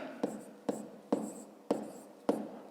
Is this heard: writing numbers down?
yes